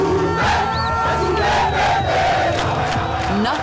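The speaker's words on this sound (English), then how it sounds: "Nothing seems to be dampening the spirits of the singing crowds." A large crowd of children sings and chants together at an outdoor event, a loud, continuous mass of young voices with shouts rising over it throughout.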